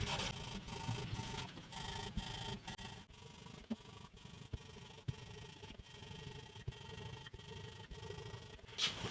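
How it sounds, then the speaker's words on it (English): A cloth polishes the freshly oiled body of a 50-year-old acoustic guitar, giving quiet, close rubbing strokes in a steady back-and-forth rhythm with faint squeaks. "Give it a good polish."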